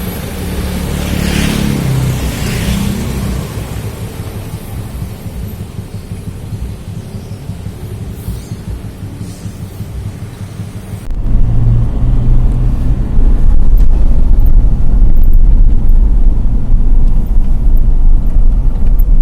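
A Land Rover Defender running on diesel rumbles steadily on the move as a low, continuous drone. About eleven seconds in it grows noticeably louder and then holds at that level. No one speaks.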